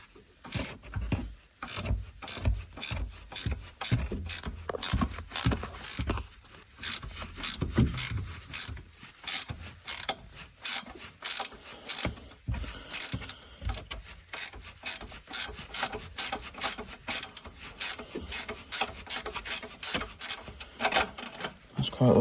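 Ratchet clicking as an E8 star socket is turned on a Peugeot 308 front strut, long runs of rapid, sharp metallic clicks in bursts with brief pauses, close and fairly loud, with speech at times.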